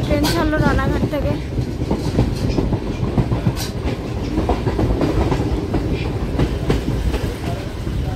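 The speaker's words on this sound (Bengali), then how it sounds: "ট্রেন ছাড়লো রানাঘাট থেকে।" A train pulls out of Ranaghat station on a busy platform, with loud, continuous rumbling and steady clickety-clack from the wheels, and a whistle-like tone near the start.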